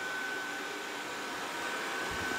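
Robot vacuum cleaner running in a shop: a steady, even whirring hum of motor and suction, continuous and moderately close, with no talk.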